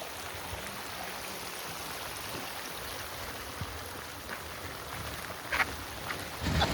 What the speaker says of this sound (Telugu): ఇది రేన్ అనమాట.